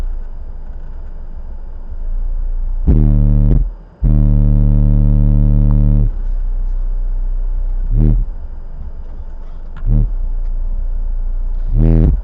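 A repaired Boss Audio PD5000 Phantom car amplifier runs on the bench, putting out loud buzzing, distorted tones in bursts that start and stop, with a steady hum between them.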